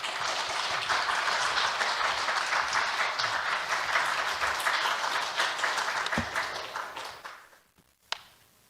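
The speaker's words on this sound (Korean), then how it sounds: "나오실 때 박수로 환영 부탁드립니다" Sustained applause from a church congregation at a Wednesday service in Jeonju, welcoming a guest lecturer on climate change; dense, steady clapping for about seven seconds, then tapering off to a single sharp tap near the end.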